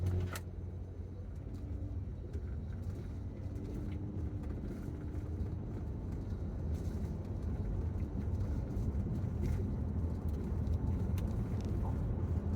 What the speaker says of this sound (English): I'm going to take off real slow and see how it shifts,